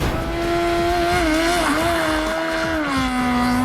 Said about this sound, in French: je vous présente cette moto et son sidecar de course professionnelle, connu sous le nom de Sharkus Maximus